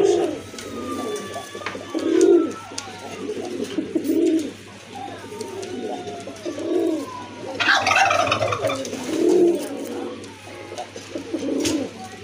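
A running pair of pigeons in a loft coos in repeated, soft, low rounded calls at a steady rhythm, close by, with a brief rustle of movement midway.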